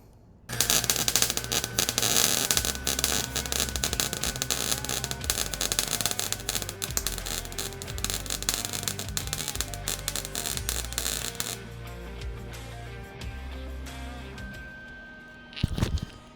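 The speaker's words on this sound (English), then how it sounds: "So I'm gonna go ahead and get all this welded and see how it looks." Welding on turbo Integra parts gives a loud, continuous crackling buzz with a low rhythmic hum underneath, which stops abruptly near the end before a brief final burst.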